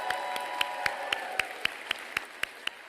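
Audience at an evening State of the Schools event in Boston applauding the superintendent, heard as sparse, evenly spaced claps over a faint steady background, fairly quiet and at a distance.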